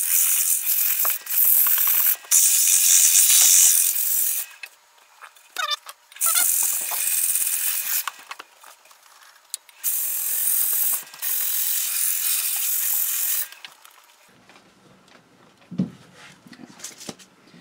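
Sandpaper rasps against a very wet poplar fruit bowl spinning on a woodturning lathe, in loud sustained bursts broken by brief pauses, with quieter scraping toward the end and no talking.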